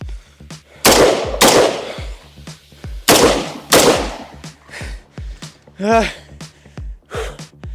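Several loud, sharp gunshots close by, fired standing during endurance shooting training, spaced irregularly with echoing tails, alongside heavy breathing and a short vocal sound.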